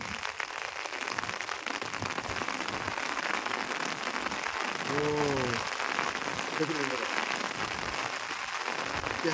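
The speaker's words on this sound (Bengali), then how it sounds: "এই মুহূর্তে বৃষ্টি অনেক জোরে এলো খুবই বৃষ্টি ঝরছে" Heavy rain pours down in a steady, dense hiss, with a few faint voices briefly audible beneath the downpour.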